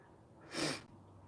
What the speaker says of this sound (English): Oh, I need to sneeze again.